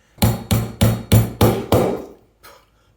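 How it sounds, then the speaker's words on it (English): Pliers used as a hammer to knock a packer out of a small transformer's laminations: six sharp, evenly spaced metallic strikes close up, then one faint tap after a pause. "Pliers make great hammers."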